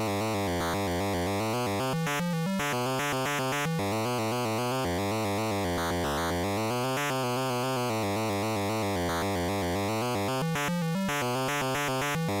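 Harsh, clashing chiptune melody from an Atari 2600 game, bleepy square tones stepping through a repetitive tune with abrupt cuts and restarts, loud and continuous with no one speaking.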